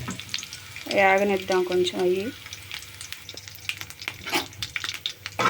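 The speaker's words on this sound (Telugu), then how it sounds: "తాలింపు మెంతులు కూడా వేసుకుంటున్నాం" Fenugreek seeds, mustard, cumin and split gram crackle and sizzle in hot oil as a tempering for dal, loud sputtering bursts near the pan, with someone speaking briefly over the frying.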